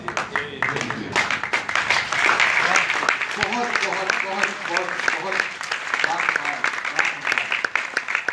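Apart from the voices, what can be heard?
audience applause at a poetry recital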